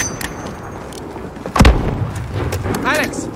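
Mortar fire in Call of Duty Modern Warfare: one heavy, close boom lands mid-clip over a bed of distant gunfire and battlefield rumble, with scattered lighter shots before and after.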